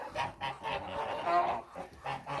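Kholmogory geese in a farmyard flock give a run of honks in quick, uneven succession, fairly faint and close together, with no voices.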